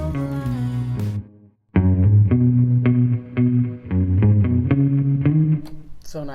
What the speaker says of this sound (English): There's a lot of spring reverb.